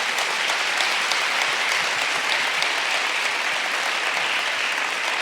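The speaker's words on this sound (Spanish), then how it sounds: "dale un fuerte aplauso al nombre del Señor" A congregation at a church service gives loud, sustained applause, a dense even roar of clapping that lasts the whole stretch without breaks.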